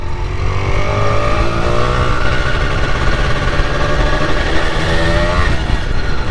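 Yamaha TZR125 two-stroke motorcycle engine running loud and steady, a dense rising and falling drone with shifting tones as the bike is ridden and revved close by, with no voices.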